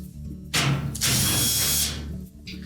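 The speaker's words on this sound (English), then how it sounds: "You simply remove all of the screws." A power driver unscrews 1/4 inch hex head screws from the back panel of a Whirlpool dryer, two close, loud whirring bursts, the second longer, with a quiet pause between them.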